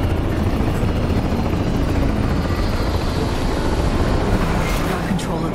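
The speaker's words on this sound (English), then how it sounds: "NUS combat choppers buzzing the free city of NC." Combat helicopters fly overhead in Cyberpunk 2077, their rotors making a loud, continuous, close thrum that drowns out most other sound.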